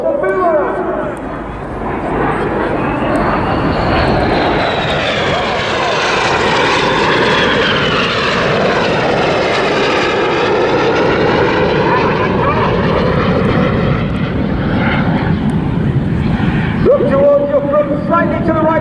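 Red Arrows jets performing a barrel roll with colour smoke at a seaside airshow, a loud sustained engine roar sweeping overhead with a rising and falling pitch, long and continuous, with crowd or commentary voices faintly beneath.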